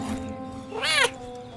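An orange cat on a porch gives one short rising meow, clear and close, over faint background hum.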